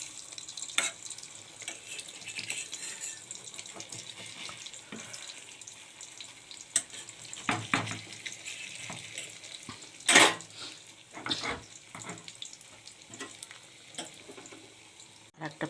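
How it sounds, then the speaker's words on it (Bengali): Lentil fritters (bora) fry in oil with a quiet, continuous sizzle, broken by occasional clinks and scrapes of a utensil against the pan. "তারপরে আমার বড়াগুলো ভাজা হয়ে যাবে, আমি তুলে রাখবো।"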